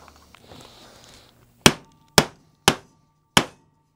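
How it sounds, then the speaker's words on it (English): A hammer or small mallet knocks against an electric guitar neck in a workshop, four sharp, close, evenly spaced taps, each ringing briefly before fading, after a moment of quiet shuffling. "All I have to do is bump that with the hammer or the little mallet, and I can move it side to side."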